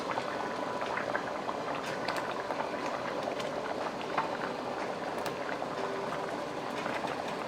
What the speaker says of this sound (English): increase your heat to high and then simmer to 5 to 7 minutes